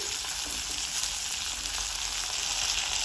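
Ginger and carrot pieces frying in a hot pan for pickle, giving a dense, even sizzle that holds steady at moderate loudness throughout, close up, with no talking and no distinct stirring strokes.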